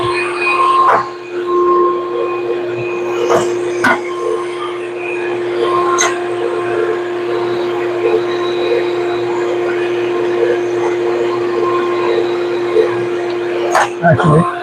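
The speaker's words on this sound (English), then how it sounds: "it helps if I turn on the vacuum after hooking it up" A vacuum hooked up to a tool in a sign-making shop runs with a steady, close droning hum and a few sharp clunks and knocks over it.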